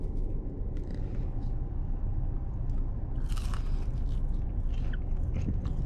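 Crunchy bites into crispy spicy McDonald's chicken McNuggets, repeated crisp crunches and chewing close to the mic over a steady low background rumble.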